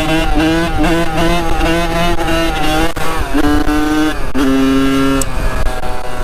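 A Kawasaki KX85 two-stroke dirt bike revs hard close by, its pitch climbing through several throttle bursts with brief drops between gear changes. The engine note is loud and buzzy, with no talk over it.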